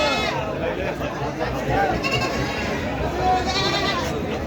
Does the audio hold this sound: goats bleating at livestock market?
yes